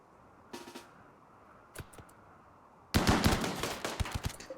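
Heavy SMG and LMG gunfire in the video game RimWorld: short faint bursts, then a longer, louder stretch of rapid automatic fire that keeps going to the end.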